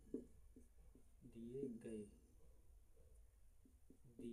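A pen scratches across paper as a science exam question is copied out, soft intermittent strokes close by, heard beneath someone talking throughout.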